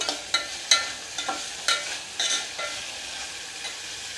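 Tomatoes frying in a pan for Udupi-style sambar give a steady close sizzle, with spoon scrapes and stirs at roughly half-second intervals that fade toward the end.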